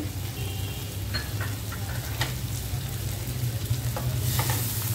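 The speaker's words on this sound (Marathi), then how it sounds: "आणि हे सगळं फ्राय करून घेते।" Chillies, garlic, ginger and cashews frying in a pan give a close, steady sizzle with scraping stir strokes running through it, growing slightly louder toward the end, with no talk.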